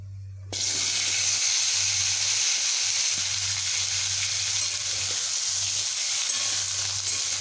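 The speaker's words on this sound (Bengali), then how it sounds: "কালো জিরেটা একটু ভাজা হতেই এখানে আমি কেটে রাখা কুমড়োগুলোকে এখন দিয়ে দেব" Pumpkin pieces hit hot oil with black cumin and burst into a loud, steady sizzle that holds close and constant throughout, with a low hum underneath and no talking.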